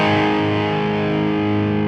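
Electric guitar through a Marshall JCM800 pedal with its sensitivity set to the high output, a dense, sustained, distorted chord ringing loud and present for about two seconds without any talking.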